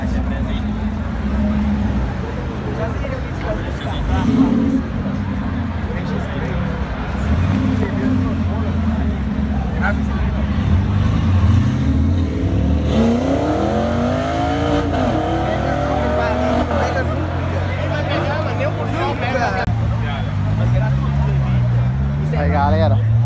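An Audi R8 V10 Spyder pulls away from a crowded street car meet, its engine rising in revving sweeps amid crowd noise, with people talking over it.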